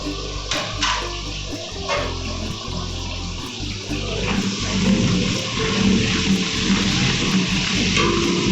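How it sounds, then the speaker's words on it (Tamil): Onions and green chillies fry in a large biryani pot, giving a steady, dense sizzle throughout. Occasional clanks and scrapes rise above it, and no one speaks. "வெங்காயம் நல்லா சிவப்பாக வர வரைக்கும் நல்லா வேகட்டும், கோல்டன் கலரில் வர வரைக்கும்."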